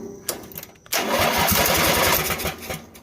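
A Lawn Boy lawn mower engine fires up on starter fluid with a sharp catch, then runs loud and rough for a couple of seconds, its chugging beat sputtering and fading toward the end.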